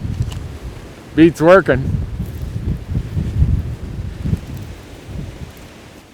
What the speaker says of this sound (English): come and sit out here in this wind all morning